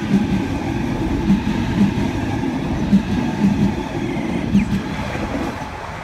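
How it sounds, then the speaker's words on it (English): A Sydney Tangara electric train arrives at Milsons Point station, a steady rumbling roar of rolling stock with rhythmic wheel clacks over rail joints and a faint squeal, close by and without talking. "Here we got a Tangara coming in."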